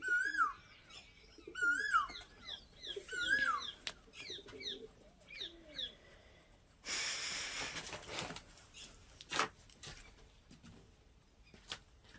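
Pigeons coo in soft, repeated calls early on, followed by rustling, a burst of noisy handling, and scattered clicks and thumps nearby.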